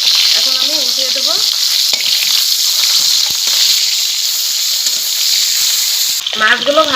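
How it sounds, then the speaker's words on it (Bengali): Snakehead fish sizzle and crackle as they fry in hot oil in a wok for a curry with new potatoes, a loud steady hiss throughout with brief voice-like bursts near the start and end. "তেলে দিয়ে দেব মাছ।"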